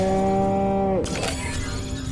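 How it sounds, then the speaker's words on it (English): A cow moos in the video game Destroy All Humans!, giving a single drawn-out, tonal moo that lasts about a second before it breaks off into a brief noisy game sound effect. "Again with the moo?"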